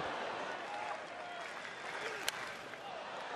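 Baseball stadium crowd at a Washington Nationals game in the seventh inning, a steady wash of cheering and applause with one sharp clap, under a commentator's voice.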